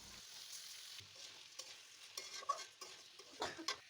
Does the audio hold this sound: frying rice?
yes